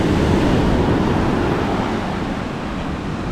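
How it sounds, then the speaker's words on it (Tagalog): A continuous, broad roar of surf and wind, loud and close, with no voices, easing slightly toward the end. "Malalaki ang alon."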